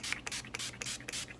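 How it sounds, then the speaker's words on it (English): Makeup setting spray mists onto a face in about six short, hissing bursts at an uneven rhythm, close and fairly quiet, with no speech. "I'm literally going to spray my face"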